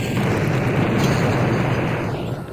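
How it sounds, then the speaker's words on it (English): Video game explosion in Blood blowing open a crack in a wall, a heavy, sustained rumbling boom that fills the whole moment and fades slightly at the end. "Blow up that crack in the wall and the rats."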